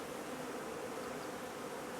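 Honey bees at a hive drone in a dense, continuous buzz, loud and close, steady throughout with no other sounds.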